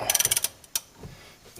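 A ratchet works the first bolt on the rear upper control arm of a 2002 Honda Civic with a quick close run of about eight rhythmic clicks, then a single louder clack and quieter handling noises.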